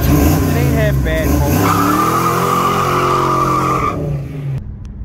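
1986 Ford Mustang GT five-speed Fox Body barn find doing a clutch dump, with a loud, steady tire squeal and engine roar for several seconds that then cuts off, with talk over it.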